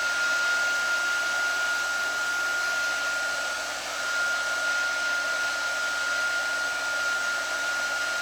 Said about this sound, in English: I'm going to turn my heat tool on here a little bit and just dry it up just a little bit